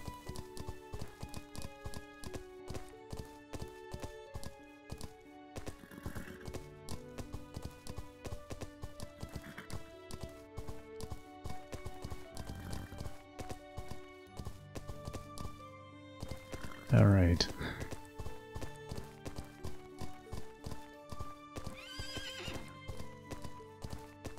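Steady rhythmic hoofbeats of a galloping horse in the video game Everdream Valley over game music, with a loud neigh partway through.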